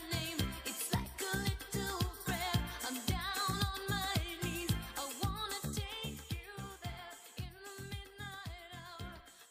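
A song played forwards: a full pop mix with a steady, punchy drum beat, bass and layered melodic parts, loud and continuous throughout.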